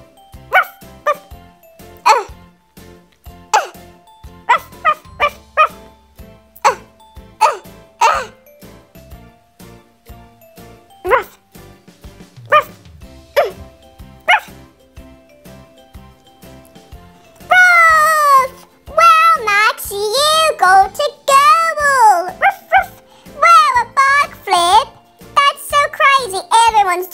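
A person's voice imitates a dog barking with short, repeated "ruff" yelps during playful Lego Friends soccer play, spaced at an even rhythm, then gives way to denser, higher-pitched voices near the end.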